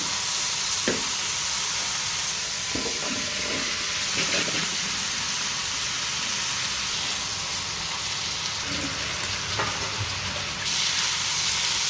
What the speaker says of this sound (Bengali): এগুলোকে আমি আরও একটু কিছুক্ষণ কষাবো খুব ভালো করে নেড়ে নেড়ে কষিয়ে